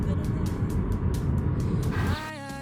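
A car rolls into a small Texas town on a road trip, a steady low road rumble and engine drone throughout, with a voice briefly speaking near the end.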